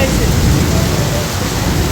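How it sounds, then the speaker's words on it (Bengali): Heavy rain pours down at a market in Malaysia, a dense, steady roar of water hitting surfaces that stays loud and unbroken throughout. "দেখেন কতটা বৃষ্টি যে পরিমাণ রোদ উঠে সেই পরিমাণে বৃষ্টি নামতেছি"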